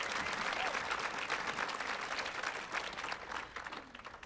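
An audience applauds at a spring 2024 university apparel design fashion show, a dense, steady wash of many hands clapping that stays loud throughout and eases slightly toward the end.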